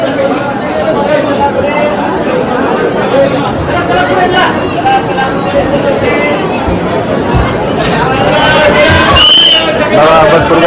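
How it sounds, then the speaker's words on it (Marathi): Big crowd of devotees at Akkalkot during the Datta Jayanti festival, a dense, continuous hubbub of overlapping voices and chatter filling the space, steady and close, with occasional sharper shouts rising above the babble. "बघा मित्रांनो किती गर्दी आहे."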